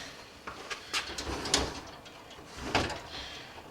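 Wooden storage drawer in a homemade yard storage system, its tracks loose, sliding and knocking as it is opened and shut, with faint scraping and a few soft thuds close by.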